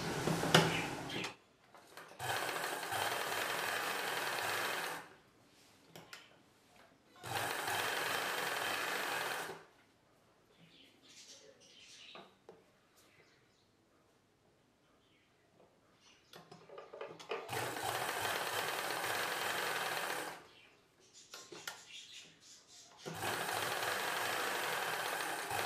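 Electric sewing machine stitching a cross-cut blouse, running in several long steady bursts of a few seconds each, separated by quiet pauses with faint handling noise; no talking.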